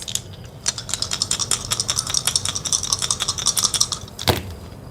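Astro dice rattle and clatter in a rapid series of small, dry clicks, close and fairly crisp, ending with a sharper knock as they settle.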